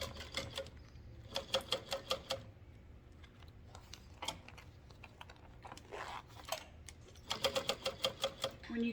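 Sewing machine stitching a zippered fabric pouch from the exterior side with the lining down: short bursts of fast, even mechanical pulses separated by pauses, close and fairly quiet.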